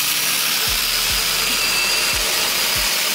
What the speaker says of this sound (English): I'm going to go ahead and cut this up here in this like manageable firewood